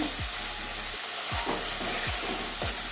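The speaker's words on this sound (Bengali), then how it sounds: "আমার মশলা কষানো হয়ে গেছে, মশলা থেকে যে তেল ছাড়ছে।" Spice masala with tomatoes sizzles in oil in a pan for jackfruit curry, a continuous close hiss broken by several low scraping stirs at roughly regular intervals, with no voices.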